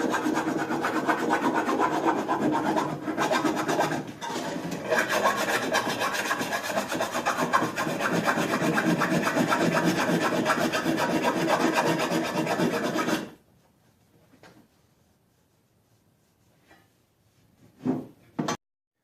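Steady rasping strokes of a hand file on a metal engine part from a Kohler Magnum 16 garden tractor engine run continuously for several seconds, then stop abruptly, leaving near silence with a few faint knocks.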